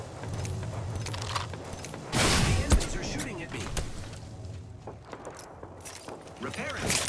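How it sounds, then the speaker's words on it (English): Enemy gunfire in the Apex Legends video game: a loud burst of shots cracks out near the middle, with scattered lighter shots and game sounds around it and a voice speaking through much of the clip. "The enemies are shooting at me."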